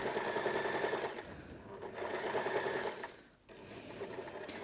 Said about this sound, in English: Go forward, back stitch again to secure your seam